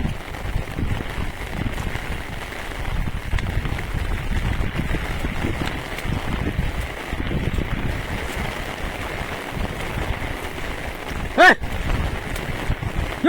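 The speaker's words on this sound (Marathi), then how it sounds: "पाऊस भरपूर पडता" Heavy monsoon rain in rural Konkan, Rajapur, falls as a constant broadband hiss that holds steady throughout, with a brief sharper knock near the end and no voices.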